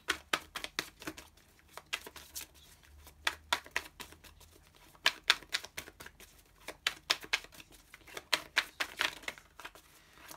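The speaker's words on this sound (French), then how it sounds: "Je vais mélanger déjà correctement les cartes" Tarot cards shuffled by hand close up, a quick, fairly even series of sharp papery taps and riffles that repeats in clusters, quiet and unaccompanied by speech.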